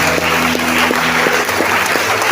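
A congregation claps and cheers in acclamation during a French-language prayer service. The dense, steady applause sounds loud and close, with sustained musical tones running underneath throughout.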